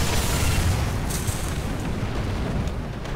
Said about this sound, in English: I'm shielding him from the blast!